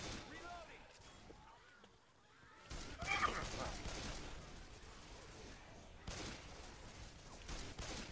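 Gunfire in Left 4 Dead 2 during the Hard Rain campaign, several faint bursts of shots fired at a group of enemies in a pile, muffled and low in level, with a brief lull before another volley.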